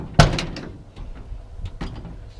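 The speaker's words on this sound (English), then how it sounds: "You can see the door lock is working." Passenger door lock on a 1975 Ford F-100 Ranger 4x4 pickup operated, giving one sharp close mechanical clunk followed by lighter rattles and a second softer latch click.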